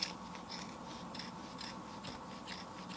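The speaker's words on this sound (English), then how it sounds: "you got to cut all these loops of yarn" Scissors snip through loops of yarn in quick, soft, repeated cuts, close and fairly faint, with no talking.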